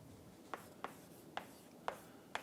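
Chalk or marker strokes on a board during a mathematics lecture, five short, sharp taps and scrapes spaced about half a second apart, close and quiet in a hushed room.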